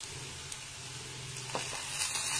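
Mushroom curry with ginger garlic paste fries in a pan with a steady, soft sizzle that holds close and constant, broken by a few faint clinks of stirring.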